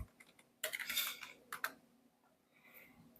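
Typing on a computer keyboard, quiet close-up keystrokes that come in a quick burst, then a few more taps after a short pause, with no voice over them.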